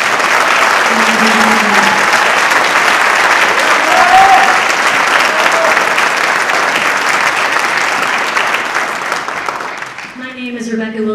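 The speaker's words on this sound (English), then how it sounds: "another round of applause for our combined choirs" Audience applause for combined choirs at a high school holiday concert: loud, dense clapping from a large crowd for about ten seconds, then thinning as a voice begins speaking at the very end.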